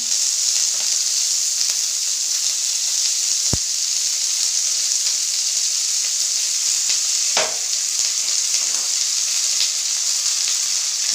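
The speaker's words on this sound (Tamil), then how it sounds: "இந்த வெங்காயம் வதங்குறதுக்காக கடலெண்ணெய் நான் இப்போ சேர்த்துக்கிறேன்" Sliced onions sautéing in groundnut oil for a roasted-masala chicken curry, giving a loud, continuous hissing sizzle throughout, with one or two sharp clicks.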